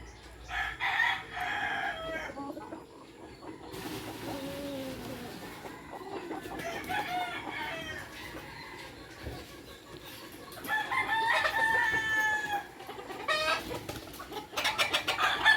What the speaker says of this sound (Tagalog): Dagko siya akong frizzle chicken.